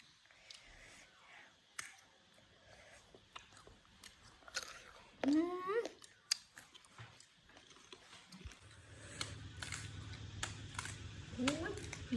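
Sour green mango being chewed close to the mic, with crunchy bites and wet mouth noises scattered between quiet pauses, and a few faint rustles.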